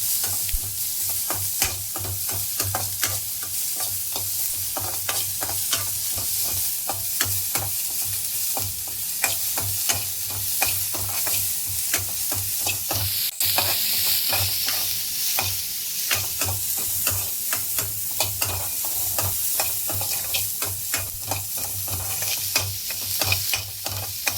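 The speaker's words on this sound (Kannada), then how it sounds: "ಹಚ್ಚಿದ ನೀರುಳ್ಳಿ, ಕಟ್ ಮಾಡಿ ಇಟ್ಕೊಂಡ ಬೆಳ್ಳುಳ್ಳಿ ಹಾಕಿ ಎಣ್ಣೆಯಲ್ಲಿ ಸ್ವಲ್ಪ ಫ್ರೈ ಮಾಡಬೇಕು." Chopped onion and garlic fry steadily in hot oil for a curd curry, a dense continuous sizzle with crackling pops and occasional stirring scrapes, close and loud throughout with no talking.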